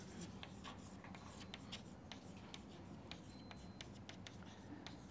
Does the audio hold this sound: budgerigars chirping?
no